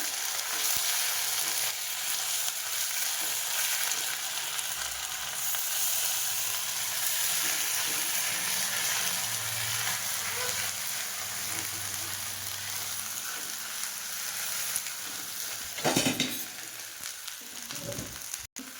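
Ginger garlic paste frying in a hot pan produces a loud, constant hiss and sizzle that runs for the whole stretch, with a low rumble partway through and a few clanks of utensils near the end.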